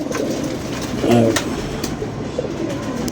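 Pigeons coo nearby, a soft burbling call rising over a background of rustling noise and faint distant clatter.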